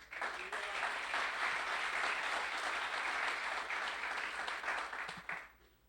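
A church congregation applauding together, a loud sustained wave of clapping that holds steady for several seconds and then fades out toward the end.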